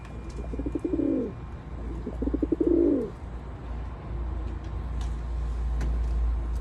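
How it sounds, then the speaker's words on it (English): A wild American racer pigeon coos twice up close, each call a rolling burst of low throaty pulses swelling into a drawn-out note, followed by quiet low background hum. "we think this is an American racer pigeon"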